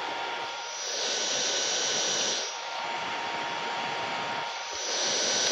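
A Philips Lumea IPL hair removal device's cooling fan whirs steadily and close up, rising and easing in repeated cycles about every two seconds, with no talking.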